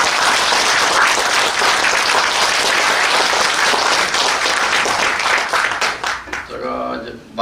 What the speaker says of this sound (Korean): 다시 한번 크게 박수 좀.